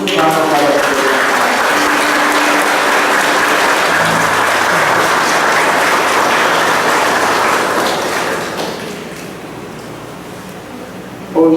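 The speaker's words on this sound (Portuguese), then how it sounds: "Vamos dar uma salva de palmas" Sustained applause from a church congregation at Mass, loud and steady clapping filling the space, tapering slightly toward the end.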